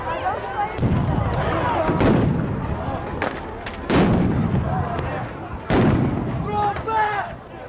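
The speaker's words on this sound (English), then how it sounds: "The National Guard have come out. They're firing tear gas." Police and National Guard fire tear gas launchers at a street protest after nights of unrest, several loud booming reports spaced a second or two apart amid crowd noise and talking voices.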